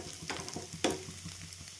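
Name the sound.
neer dosa cooking on a pan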